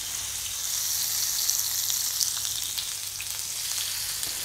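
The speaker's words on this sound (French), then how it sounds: "Disposez les brochettes de saumon sur le barbecue." Marinated Norwegian salmon skewers sizzle on a hot electric barbecue, a steady close hiss of frying with small crackles and pops throughout.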